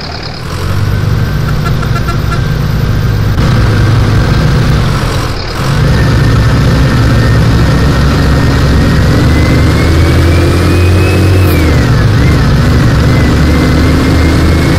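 Steady drone of a bus engine in the video game Proton Bus Simulator, on a North Zone Rio de Janeiro map, idling and revving with a rising then falling pitch, loud and continuous with a brief dip midway.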